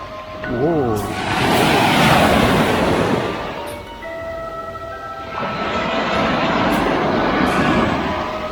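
Sea waves at night by holiday cottages in Novy Svet, two broad surges of surf rolling in and washing out, loud and close, with a voice heard over the water.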